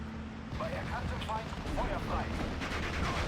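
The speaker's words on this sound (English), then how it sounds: "Oh, that artillery might be spot on." In the Steel Division: Normandy 44 video game, artillery and gunfire rumble and crackle in a dense, continuous battle bed, with distant booms and scattered shots blending into the noise.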